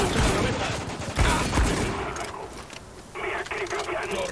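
Gunfire in the war shooter Spec Ops The Line, with dense bursts of rapid shots in the first half, then quieter combat noise as voices come in and talk over it.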